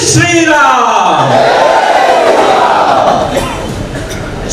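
A large crowd at a rally of Ayyappa devotees chanting Jai Shri Ram, a loud, massed roar of voices swelling together and holding for several seconds before easing slightly, with a drawn-out shout rising over it.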